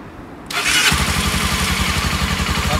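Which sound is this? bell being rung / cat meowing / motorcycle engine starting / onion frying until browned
motorcycle engine starting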